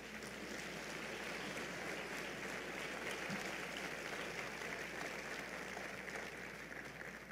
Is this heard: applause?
yes